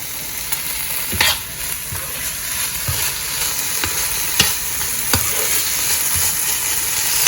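Quesadillas frying in a pan give a steady close sizzle, broken by several sharp scraping and tapping clicks from handling them, with no talking.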